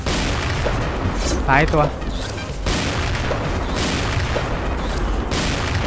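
Sniper rifle shots in the shooter game XSHOT, fired with a machine sniper, come as loud bursts against a dense, busy game backdrop while someone talks over them.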